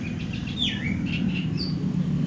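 Several short, bright bird chirps and a swooping call ring out over a steady low rumble of background noise.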